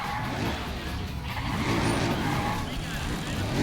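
Pontiac GTO muscle cars drag racing in Need for Speed ProStreet, engines roaring together in a loud, rumbling, continuous drone with a steady low growl.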